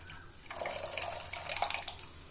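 Two tumblers of water pour steadily into a pot of banana flower rasam, a continuous splashing rush with small gurgles and drips, fairly close and alone.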